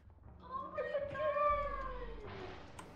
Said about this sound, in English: He's just like meowing at me.